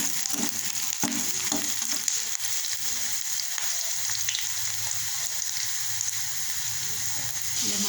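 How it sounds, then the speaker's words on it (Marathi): Onion sautéing in a pan gives a steady, continuous sizzle and frying hiss throughout, close and even, with occasional soft stirring scrapes. "इथे बघा कांदा टाकलेला आहे परतायला"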